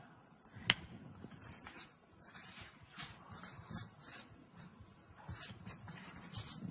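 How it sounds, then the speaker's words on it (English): A marker squeaks and scratches across a board as a word is written in blue, in a series of short, close strokes with brief pauses between them. No one talks. "I'll write it up here. See it. Do this in blue now."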